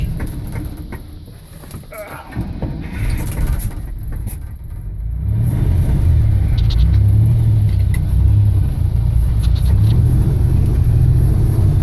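A 1927 Studebaker rat rod crawls away in compound low gear, its engine a deep, steady low rumble that swells after a few seconds of quieter idling, with occasional faint clicks above the drone.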